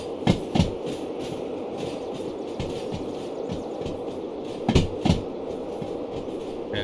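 A steam locomotive in the Derail Valley train simulator is given more power while shunting, producing a steady rumbling drone with a few sharp clanking bursts near the start and again about two-thirds through, and no one talking.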